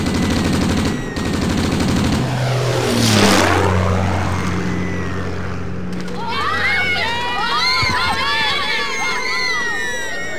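Soviet Yak attack planes in Command & Conquer: Red Alert sweep in with a loud engine swoop, sharp gunfire bursts and explosions, followed by rapid chirping game effects, all fairly close and dense.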